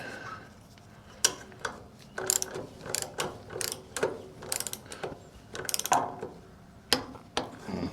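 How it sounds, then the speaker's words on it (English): Ratchet wrench turning GM ball joint bolts in an awkward position, a close series of quick clicking bursts with short pauses between pulls. "Give me my wrench back."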